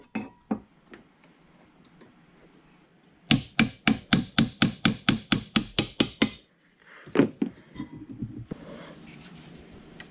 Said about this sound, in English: I can now use this brass hammer or maybe a brass punch to tap off the end bells